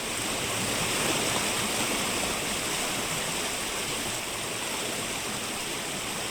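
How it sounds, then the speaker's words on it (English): Longclough Brook, just off Primrose Lane in Derbyshire, roars at close range from the waterline: a loud, constant, fast-rushing wash of water like white noise, steady throughout with no pauses and no voices. "This is Longclough Brook's roar,"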